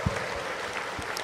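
A church congregation at a Sunday worship service claps and cheers in a brief, dense burst of applause that fills the room.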